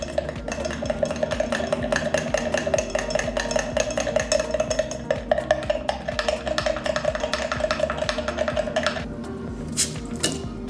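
A bar spoon stirring a mango michelada base with chili paste, mango puree and seasoning in a glass, a rapid, steady clinking rattle close by that continues for several seconds and stops near the end.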